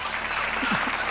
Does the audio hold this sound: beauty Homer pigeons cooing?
no